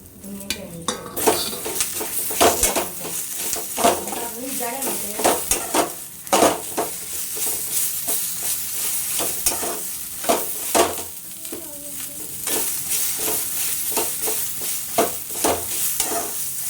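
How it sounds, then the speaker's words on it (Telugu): Ridge gourd peel and dried red chillies frying in a pan, a dense crackling sizzle with frequent sharp scrapes and clacks of a spoon stirring against the pan, close and loud with no voices. "బీరకాయ తొక్కు కూడా ఇలా వేసేసుకోవాలి"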